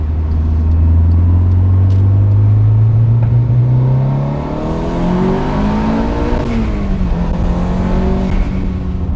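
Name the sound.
tuned Volkswagen Golf R engine revving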